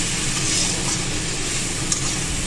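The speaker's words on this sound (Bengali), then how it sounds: "এখন আমি জল দেবো" Hot water hits cauliflower masala frying in a pan and sets off a steady, broad sizzle and hiss that lasts throughout at close range.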